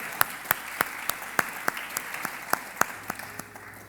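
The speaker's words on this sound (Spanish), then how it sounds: "Un aplauso al Señor por ello, ¿ves?" Inside a church, hands clap in slow, evenly spaced single beats, about a dozen sharp distinct claps over a faint background murmur, tapering off toward the end.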